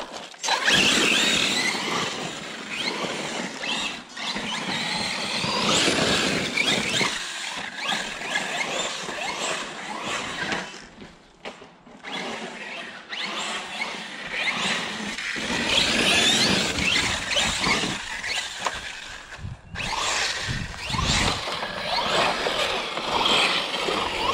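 An Arrma Fireteam RC car drives with a fluctuating electric whine and scraping, rising and dipping in bursts as it speeds, slows and skids over the ground.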